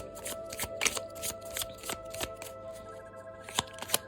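A deck of floral oracle cards is shuffled by hand, close up, producing a run of crisp riffling flutters and soft taps at an uneven rhythm, with no voice over it.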